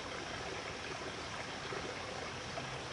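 Spring water welling up from the ground in a park, a steady even rush and trickle of flowing water, continuous and close, with no voices.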